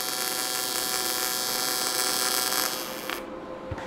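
A TIG welding arc gives a steady, close electric buzz and hiss that holds evenly for a few seconds, then cuts out abruptly into quiet.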